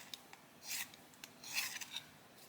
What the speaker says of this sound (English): I'm just going to sharpen it.